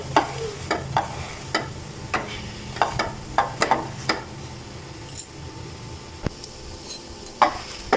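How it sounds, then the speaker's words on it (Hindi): A barley and gram flour paratha fries in a pan with a soft continuous sizzle, punctuated by repeated clicks and scrapes of a utensil pressing and moving it, close and fairly loud, without talk. "तो पराठा पैन में चला गया।"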